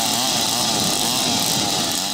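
A chainsaw carves a large chunk of wood at a carving display in Papua New Guinea, its engine loud, close and steady at high revs throughout, with no voices.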